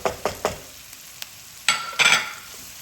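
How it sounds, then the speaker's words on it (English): Sweet corn, salt, black pepper and oregano being stirred into a creamy white pasta sauce in a pan: a few quick scraping strokes with a low sizzle underneath, close up, with no talking. "I'm just going to add the sweet corns in now. And I'm also going to add the spices in, salt, black pepper and oregano."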